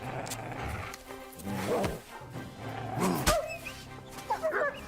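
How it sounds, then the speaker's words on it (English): A dog barks in the video game Kingdom Come Deliverance 2, giving a few scattered, fairly quiet barks over game ambience and music. "Good dog, Max."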